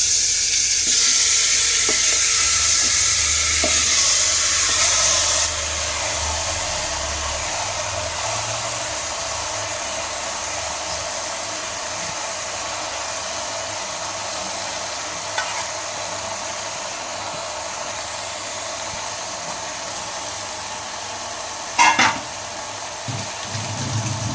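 Yogurt chicken (doi chicken) being sautéed in a pan, a long steady sizzle and hiss that is louder at first, then settles to an even frying noise with an occasional clink of a utensil.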